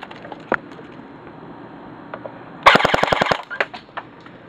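A GSG 522 airsoft gun fires a rapid burst of 20 gram BBs on a half-charged battery, a loud close rattle of about eleven shots per second lasting under a second, followed by a few scattered clicks.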